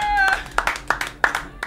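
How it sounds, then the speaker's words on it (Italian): Clapping from a small group at a wedding celebration, a run of sharp hand claps building in rhythm after a voice fades, close and fairly loud. "fatemi un applauso!"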